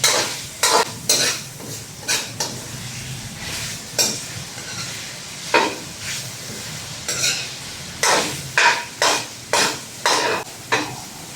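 Food sautéing in a pan while cooking a home dinner: a steady close sizzle punctuated by repeated sharp clinks and scrapes of a utensil against the pan, irregular but frequent, with no talk.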